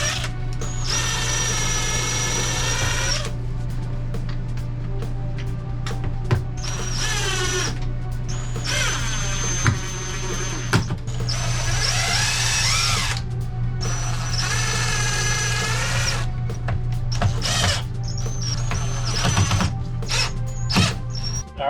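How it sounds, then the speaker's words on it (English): A cordless power drill pre-drilling holes to mount a clip inside an RV, in several close, loud whining bursts with pitch rising and falling as the trigger is squeezed, separated by brief pauses and small clicks. "I'll just probably hold it in place and pre-drill it."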